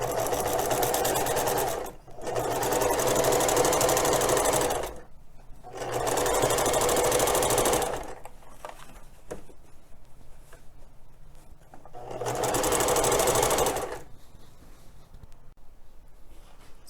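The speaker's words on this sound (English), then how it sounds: "We're only going to run the stitching through the bottom part of the basket, not the cuff." A sewing machine runs rows of stitching around the bottom of a fabric basket, loud and near, in three separate bursts of rapid whirring broken by quiet pauses, with no voices.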